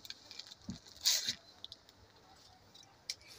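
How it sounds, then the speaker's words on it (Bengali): Rain falls at a village house in Bangladesh, a soft, faint patter with scattered light taps and one brief louder burst of drops, quiet and close. "দেখো বৃষ্টি হচ্ছে গো"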